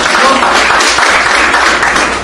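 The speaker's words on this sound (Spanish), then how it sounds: "Den un buen aplauso al Señor en esta hora" A church congregation applauds loudly during a Spanish-language worship service, a dense, steady wash of many hands clapping that fills the whole stretch and fades slightly at the end.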